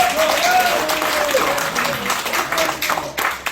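An audience at a Korean senior citizens' association founding meeting for Vietnam War veterans claps steadily, a dense wash of applause lasting throughout, with a voice and other sounds mixed in over it.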